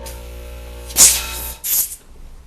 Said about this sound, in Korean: 화살은 다른 풍선으로 바람을 반 정도만 집어 넣으면 됩니다.